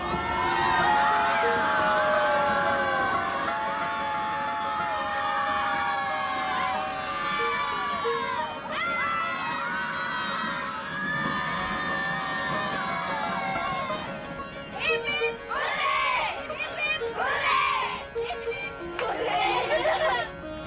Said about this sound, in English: The school kids in their uniforms cheer in unison every time we pass through one of the tunnels